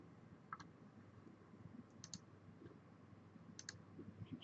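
A computer mouse gives a few faint, sharp clicks in a quiet room while Windows Firewall rules are being configured, spaced irregularly over a low background hum.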